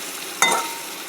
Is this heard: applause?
no